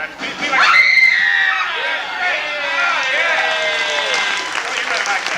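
A woman screams at a horror make-up show at Universal Studios Florida, a loud high sustained shriek followed by wavering cries over crowd noise and applause.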